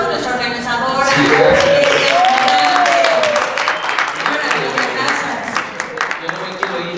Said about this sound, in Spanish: Y un aplauso a nuestra organizadora.